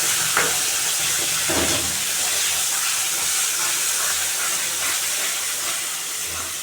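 Ground cumin and turmeric go into a pan of frying tomato and fish curry, producing a continuous close sizzle and steamy hiss with faint stirring scrapes, steady and fairly loud, with no voices.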